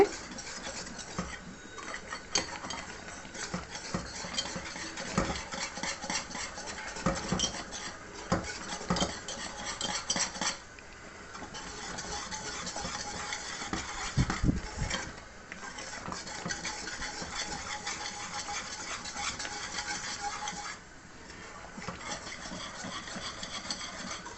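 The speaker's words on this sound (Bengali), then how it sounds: "ঘন হয়ে গিয়েছে। এবার আরও দ্রুত নাড়তে হবে।" A spoon stirring thickened carrot milk dessert in a pot, continuous scraping and light metallic clinks in a quick, steady rhythm, close and fairly loud throughout.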